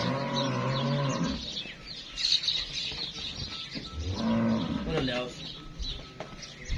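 An Australian Friesian cross cow on a farm in Pakistan gives two deep, drawn-out moos close by, with faint bird chirps and a person speaking in the background.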